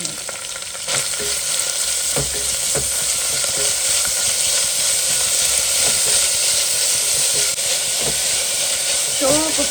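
Chopped onion fries in a tempering of curry leaves for a goat lung curry, a continuous close hiss and crackle with occasional stirring scrapes and no talk.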